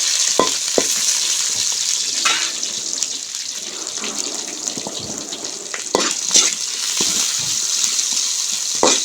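Chopped onions fry in a pan, giving a continuous sizzle overlaid with scattered clicks and scrapes of stirring, close and moderately loud.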